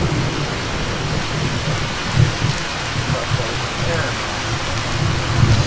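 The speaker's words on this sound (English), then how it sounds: "I added a buff because the vanilla audio from the rainfall was barely there" Steady heavy rainfall during a thunderstorm in Fallout 4, with the rain audio boosted, a constant loud hiss of rain over low rolling thunder rumbles.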